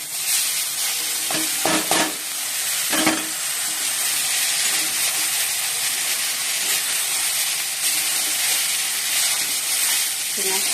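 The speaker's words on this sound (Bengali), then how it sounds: "আলুগুলো একটু ভেজে নিচ্ছি" Potatoes fry in a pan with a loud, steady sizzle and hiss. A few sharp stirring scrapes come early, and the frying carries on evenly throughout.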